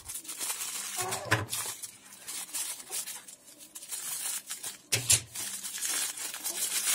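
A small plastic parcel bag from an online order is opened and unpacked, with close crinkling and rustling in bursts and a sharper tearing crackle near the end, with some quiet talking.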